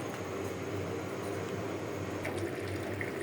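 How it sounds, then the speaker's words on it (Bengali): Water poured into a cooking pot of spiced fish curry, a steady running splash with a low hum beneath it. "এখন দিয়ে দিব পরিমাণ মতো পানি"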